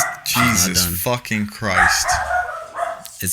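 A dog barks in quick sharp bursts close to the microphone, several yaps in a row mixed in with someone talking indoors.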